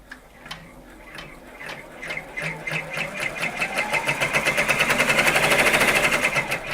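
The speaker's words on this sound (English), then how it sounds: "we're going to let this do some of the embroidery" A Brother PR670E embroidery machine stitches in a steady, rapid mechanical rhythm, its ticking needle strokes growing louder and denser as it runs, close and alone.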